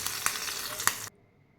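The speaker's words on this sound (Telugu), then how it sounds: "దీనికి తాలింపు అయితే పెట్టేద్దాము" Spices crackle and sizzle loudly in hot oil with a couple of sharp pops, then the sound cuts off abruptly into near silence.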